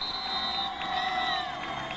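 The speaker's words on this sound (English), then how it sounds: "Kaukana fans making some noise." Fans of the Kaukana high school football team make a steady roar of cheering and shouting from the stands, a sustained crowd din with no break for the whole moment.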